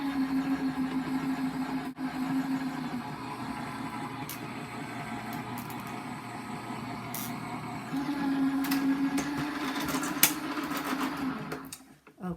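Die-cutting machine rolling a cardstock sandwich with a clear mylar shim through its rollers, a steady motorized hum and grind with a change in tone partway through, a few clicks, and a stop at the end.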